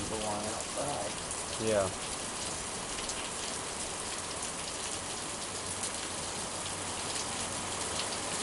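Steady, dense rain pours down outdoors in a continuous close hiss of drops on surfaces, with a brief voice early on.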